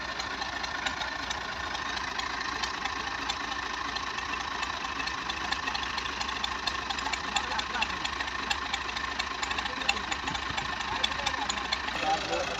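A Ghazi tractor engine, stuck in mud, drones steadily at close range with a rough knocking idle and constant vibration, continuing unbroken throughout.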